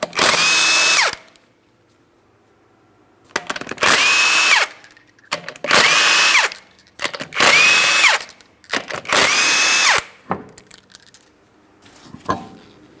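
A power tool spins off 19mm lug nuts from a Chrysler Town & Country wheel in five loud whirring bursts, each about a second long with short pauses between, heard up close with no talking.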